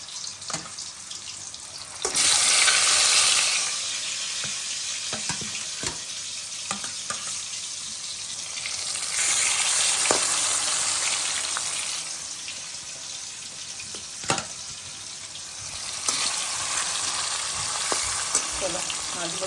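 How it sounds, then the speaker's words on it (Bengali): Large pieces of fish fry in oil with a loud, continuous sizzle that swells in waves, broken by occasional sharp pops and utensil taps. "চলো মাছগুলো ভাজা হতে থাক।"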